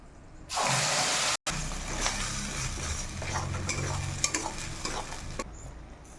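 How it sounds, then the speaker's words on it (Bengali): Spice paste hits hot oil with a loud hiss, then settles into steady frying and sizzling under repeated stirring and scraping in the pan, for a Bengali potato paneer curry made with cardamom, cinnamon, cloves and bay leaf. "এর মধ্যে এখন আমি পেস্ট করা মশলাগুলো দিয়ে দেবো"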